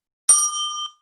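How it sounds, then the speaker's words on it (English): A single bright ding from a small bell rings out cleanly against silence, then fades quickly after roughly half a second. "Okay, ding the bell."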